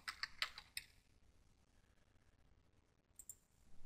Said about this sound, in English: so I'm going to have to actually type in Microsoft.